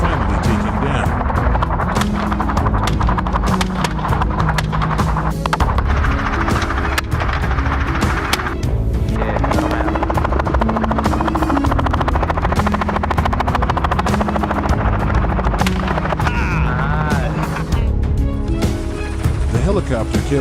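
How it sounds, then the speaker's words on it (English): A helicopter circles low over farm fields during a wild boar hunt, its loud rotor thrum continuous and close, with sharp cracks like gunshots breaking through and a voice speaking over it. "The helicopter kept circling"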